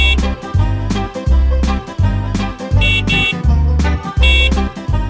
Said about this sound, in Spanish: La bocina del bus hace pip, pip, pip por la ciudad.